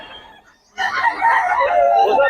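A green-legged rooster at a market crows loudly and close by, one long harsh call that starts after a brief quiet gap and fills the rest of the moment, with faint talk underneath.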